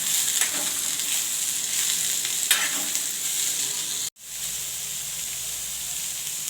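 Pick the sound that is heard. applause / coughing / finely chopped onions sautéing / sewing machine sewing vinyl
finely chopped onions sautéing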